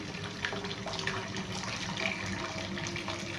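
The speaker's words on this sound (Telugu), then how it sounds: "ఇప్పుడు నేను హాట్ వాటర్ ఇస్తున్నాను ఎందుకంటే ఫాస్ట్గా అయిపోతుంది" Hot water pouring steadily into a cooking pot for rice, a continuous splashing rush heard close and even throughout.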